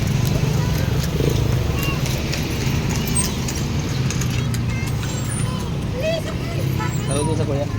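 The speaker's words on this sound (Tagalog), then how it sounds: "may kabayo." Horse hooves clip-clop along a road at a town fiesta, a steady rhythmic patter mixed into busy traffic and crowd noise, with people talking throughout.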